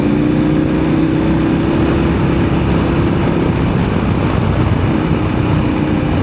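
A motorcycle ridden through Dakar streets after rain gives a loud, continuous engine drone close to the microphone, steady throughout with rushing air and no talk.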